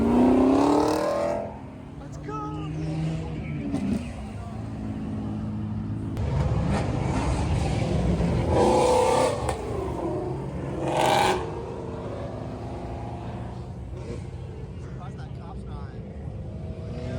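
A Chevrolet Camaro ZL1 drives along a busy main strip at a car meet in Tennessee, its engine revving and droning loudly nearby with surges of acceleration over steady traffic noise, while people talk close by.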